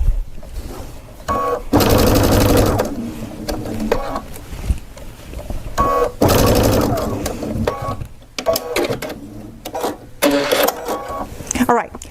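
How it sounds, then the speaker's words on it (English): A Baby Lock sewing machine bastes on a long stitch length in repeated loud rattling bursts of several seconds each, separated by short pauses, with a voice speaking nearby. "On the machine, I'm just going to go to a long stitch length."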